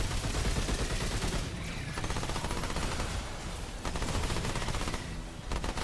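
Dense submachine-gun fire from the video game Remnant 2 rattles almost continuously, loud and close, with rapid bursts that break only briefly before resuming.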